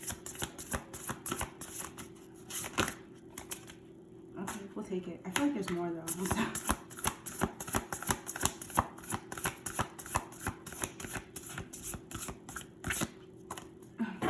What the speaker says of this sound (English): I should have shuffled y'all